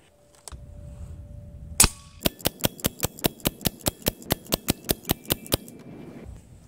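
A Daystate Pulsar PCP bullpup air rifle fires one louder crack, then a fast, even string of about sixteen sharp, close shots in steady rhythm, with no talking.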